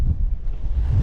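Strong wind buffets the microphone on a fishing kayak, a loud continuous low rumble filling the brief moment, with no talk.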